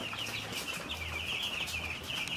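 A flock of poultry on a farm in the morning clucks and murmurs in a steady, close chorus, with overlapping calls and occasional sharper squawks throughout and no talking.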